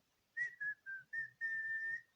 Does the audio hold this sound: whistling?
yes